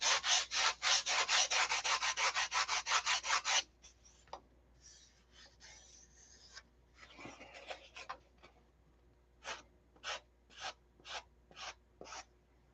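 Wooden ribs are sanded by hand, first with a fast, even run of about fifteen rhythmic strokes, then scattered softer rubs and a few spaced, separate strokes near the close, fairly faint and with no talking.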